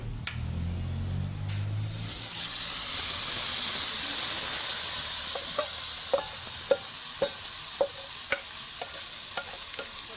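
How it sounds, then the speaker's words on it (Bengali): Chicken tipped onto browned onions and curry leaves, a soft thud giving way to a loud, rising hiss of frying, then a steady sizzle punctuated by regular clicks and scrapes of a spoon stirring the pan. "পেঁয়াজটা কষানো হয়ে যায় চিকেনটা ঢেলে দিচ্ছি"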